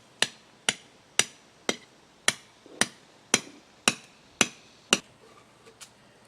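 A hammer drives rebar stakes into the ground in about ten sharp metallic strikes at a steady, roughly half-second rhythm, close and distinct, then a few fainter taps trail off.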